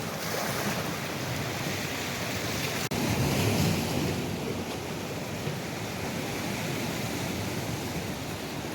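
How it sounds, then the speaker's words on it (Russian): Large sea waves wash against a steep rocky shore near Magadan, heard from a paddleboard as a broad continuous roar of surf mixed with wind buffeting the microphone, with one sharp thump partway through. "Ну там волны зато большие."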